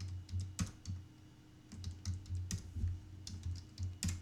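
Keys clatter on a computer keyboard in quiet, irregular bursts, with several sharper isolated presses standing out like the Enter key being struck, close and fairly soft.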